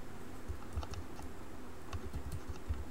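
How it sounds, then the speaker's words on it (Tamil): Quiz questions are typed on a computer keyboard in a quick, uneven run of soft key taps. The taps are close and moderately quiet over faint room noise, with no voices. "இப்போ நான் வந்து கொஸ்டின் டைப் பண்ண போகிறேன்"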